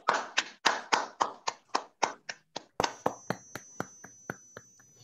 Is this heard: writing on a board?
no